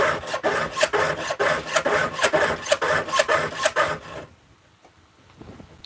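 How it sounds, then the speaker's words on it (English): A worn saw blade cuts through wood in rapid, loud, rhythmic rasping strokes for about four seconds, then stops, leaving near silence. "The blade making more noise is telling me that it's wearing out."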